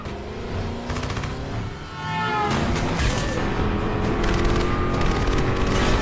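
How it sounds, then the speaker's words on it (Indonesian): Rapid, sustained gunfire from several weapons trades back and forth in dense bursts, loud and continuous over a roaring background. "Jual beli tembakan pun tak terhindarkan."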